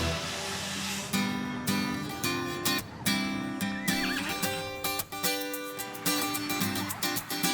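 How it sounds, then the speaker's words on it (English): Several horses gathered outside a family home during a house makeover reveal, with neighs and whinnies ringing out over a loud, steady musical backdrop and some hoof clip-clop. "All the horses are here."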